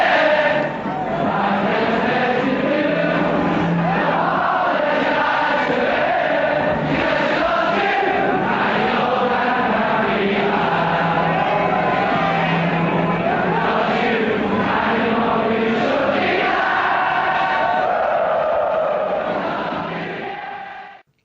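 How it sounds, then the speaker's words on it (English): A large crowd sings Liverpool's music together, a loud sustained mass of voices with rising and falling melody lasting the whole stretch before fading at the end. "The music the crowd sings is the music that Liverpool has sent echoing around the world."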